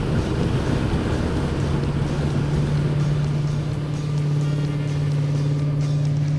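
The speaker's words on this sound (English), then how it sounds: "1971 Chevrolet C10 Cheyenne rolling down the road again" A 1971 Chevrolet C10 Cheyenne pickup with a V8 rolling down the road, steady engine drone with a sustained low hum and wind rush throughout, no voices.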